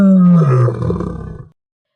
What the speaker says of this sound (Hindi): ऐसा कहकर उसने जोर से दहाड़ लगाई।